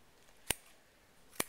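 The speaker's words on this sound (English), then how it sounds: "You're going to take your scissors and you're going to do a cut, a transverse cut" Two sharp, isolated snips of dissection scissors cutting through rat skin, spaced about a second apart, crisp and close in a quiet room.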